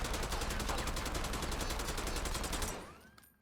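A rifle with no attachments fired full-auto in Black Ops 6, a fast, even, loud stream of rounds for nearly three seconds that then stops, leaving a brief fading tail.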